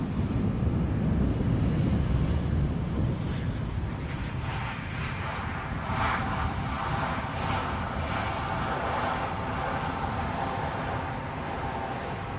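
Boeing 737 MAX 8 at Edinburgh airport, a moderate jet engine rumble with wind noise on the microphone, slowly easing in level over several seconds.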